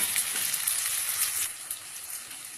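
Ground masala paste goes into a hot pan for a Goa fish curry and sizzles steadily, a close, dense hiss that eases off slightly toward the end.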